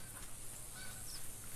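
Geese in the theHunter hunting video game give faint, distant honks over a steady outdoor background, with a Labrador retriever in the scene and no talking.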